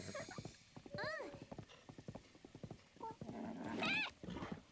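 Horse hooves clop in a steady rhythm across the Relics of The Past video game, punctuated by two rising, warbling whinnies; a faint voice murmurs beneath the beat.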